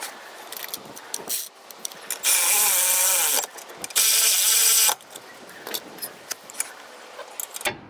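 Ratchet tightening the caliper mount bolts on the rear brakes of a 2011 Toyota Sienna, heard as quick clicking bursts between two longer, louder stretches of steady ratcheting, close up with no talking.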